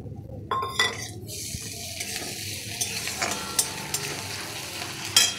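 Chopped tomatoes hit a pan of onions already fried reddish-brown for a curd-and-young-jackfruit curry, setting off a steady close sizzle with scraping spoon strokes and light pan clatter. No one speaks.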